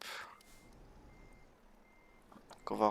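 Reversing beeper of a truck being parked in Euro Truck Simulator 2, a thin steady beep tone under low engine rumble, with a brief louder burst near the end and no talking.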